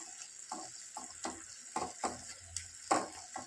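Green chickpea shoot leaves cook in a pan over quiet, steady sizzling, with soft scraping and stirring taps repeating every half second or so.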